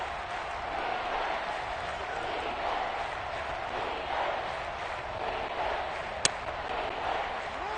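Stadium crowd noise from the Madden 23 football video game, a steady low roar with no clear swells, plus one sharp click near the end.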